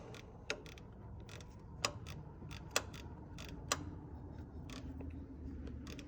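A ratchet wrench tightens a small clamp bolt on an Allis-Chalmers 8070 tractor, giving faint, sparse clicking ticks over a low steady background hum, with only a few sharper clicks standing out.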